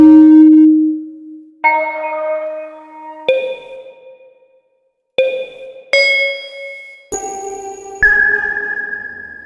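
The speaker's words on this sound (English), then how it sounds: "Let's go ahead and continue going through the bells." Synthesized bell tones from the Studio VST plugin ring out one after another, each struck note sustaining with a reverberant shimmer, climbing higher across about seven hits.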